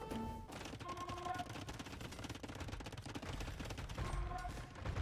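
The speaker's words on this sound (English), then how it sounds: "He's got Bombard Cannons attacking Moto's castle." Bombard cannons pound a castle in a video game battle, producing a dense, continuous barrage of crackling blasts and impacts. Faint voices sit underneath.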